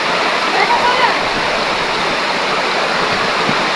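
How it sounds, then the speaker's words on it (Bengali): Heavy downpour roars steadily and close, a dense broadband hiss of pouring rain filling the whole stretch without letup, with a voice faintly present beneath it. "এখন তো আবার মুসলধারে বৃষ্টি হচ্ছে"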